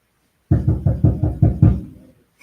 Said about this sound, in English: She's knocking on the door.